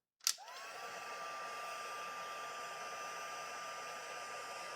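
A craft heat tool switches on with a click and then blows with a steady whirring hiss and a high whine, drying a dip-dyed piece; continuous and close, no voices.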